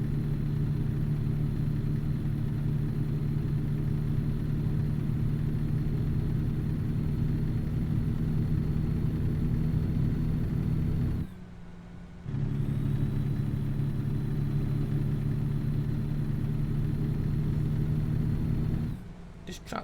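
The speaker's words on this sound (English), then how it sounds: "This truck sounds quite rough." A truck engine running rough in the video game American Truck Simulator, a steady low droning hum that runs almost without a break and drops out briefly twice, with a voice talking over it.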